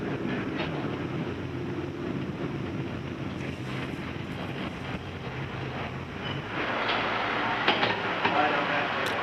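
A carriage rolls along rails with a steady low rumble and clatter, mixed with wind buffeting the microphone and a voice speaking over it, growing a bit louder toward the end.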